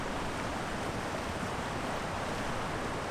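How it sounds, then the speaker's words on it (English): Steady roar of Piute Creek rushing through granite-walled Piute Canyon in the Eastern Sierra, a dense continuous wash of water noise with no breaks, heard alone. "the distant murmur of Piute Creek grew into a steady roar, echoing off the granite walls"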